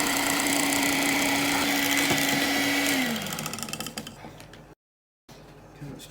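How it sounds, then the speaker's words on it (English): A Bellini kitchen mixer whirs on low speed mixing a salad dressing of vegetable oil, a steady loud motor hum with a tonal whine that drops and fades into clattering, then a brief gap. "So first I'm just going to give this a little bit of a mix on low speed."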